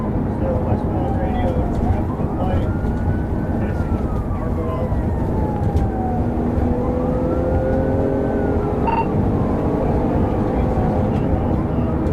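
Police car emergency siren wailing during a high-speed pursuit, rising and falling continuously over loud road and engine roar, with a voice narrating over it.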